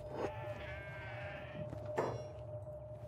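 Goat bleating in the video game Kenshi, two short nasal bleats close by, one near the start and a sharper one about two seconds in, over a faint background hum.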